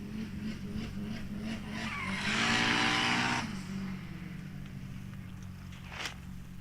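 A drag racing car with a Honda VTEC engine screams past in a short, rising high-revving burst that peaks and cuts off, leaving a low idle rumble and faint background noise.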